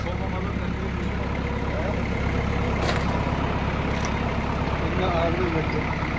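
Leyland 154 and Universal 445 tractors run after warming up before a pulling contest, their diesel engines making a steady, loud, close rumble throughout with no pauses.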